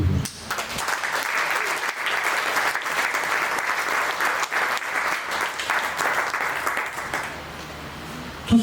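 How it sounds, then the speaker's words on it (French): A team-building event audience in a hall claps warmly, a dense, sustained wash of applause that holds steady for several seconds, then thins and fades near the end. "vous les applaudissez chaleureusement"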